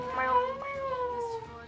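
A person imitates a cat, giving a drawn-out, wavering meow that rises and then slowly falls, close and fairly loud, with a short breathy sound near the end.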